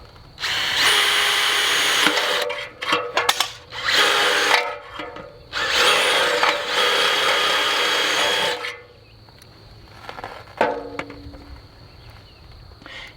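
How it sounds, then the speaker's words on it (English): Power drill boring holes through wooden ladder rungs in several loud bursts of whining spin, separated by short pauses, handling clatter and a faint steady hum. "Just gonna drill a couple holes in the ladder rungs and then screw the ladder down."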